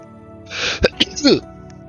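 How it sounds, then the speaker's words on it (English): A single sneeze bursts out mid-clip during a walking tour of a Minecraft RMS Titanic 1912 model, a short sharp explosive snort preceded by a quiet breathy build-up and followed by a faint sniff. "I need to sneeze."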